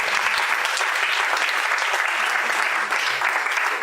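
A church congregation claps together, giving dense, sustained applause at close range that fills the whole stretch without pause, with a voice faintly audible underneath.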